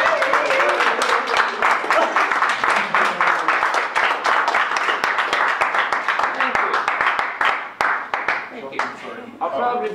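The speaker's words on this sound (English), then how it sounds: "Could we all please give a round of applause to George, who's been here since 6 o'clock?" Round of applause from the audience at a Toastmasters club award evening, many hands clapping in a brisk, sharp rhythm with individual claps standing out, tapering off near the end while voices talk over it.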